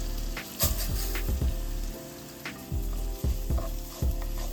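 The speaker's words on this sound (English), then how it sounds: "Now I'm adding my rice." Rice toasting and sizzling in hot oil with Sazon seasoning, a steady close frying hiss broken by repeated scraping stir strokes of a spoon through the grains, no voices.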